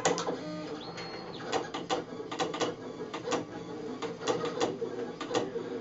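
Roland DXY-1150 pen plotter drawing, its stepper motors buzzing and whirring in short irregular bursts with clicks and taps of the pen, fairly quiet and close.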